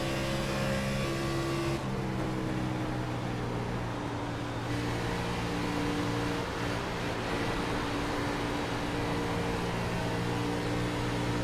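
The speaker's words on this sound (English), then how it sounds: "He's got Mitchell Wilson and that number 46 machine right on his bumper." Race cars run laps on the Michigan track of a racing league's Monday night series, with a continuous droning engine roar that holds a layered, even pitch throughout and no voices.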